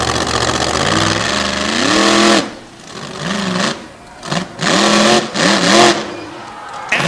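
A McNeil Amalie Oil monster truck revs its engine at Boyd Speedway during a best-trick freestyle competition, with loud repeated rising and falling throttle bursts separated by brief lulls, close and dominant.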